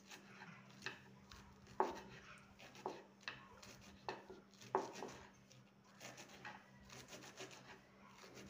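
A knife finely chops washed radish leaves on a board, producing quiet, steady taps and soft scraping strokes in an even rhythm.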